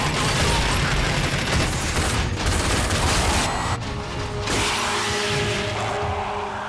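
Heavy-weapons gunfire from the video game Rage rattles in a dense, loud, continuous barrage with brief dips, no voices.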